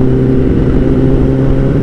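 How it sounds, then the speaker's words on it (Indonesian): A car rolls in close by with a loud, steady engine drone and some revving, heard alone without talk. "Awas, mobilnya mau masuk,"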